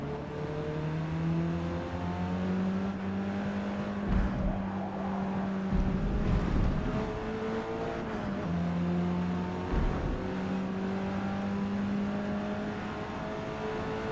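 A race car engine in Forza Motorsport drones steadily under load with a manual gearbox, its pitch dropping abruptly at several gear shifts before climbing again, heard without talk.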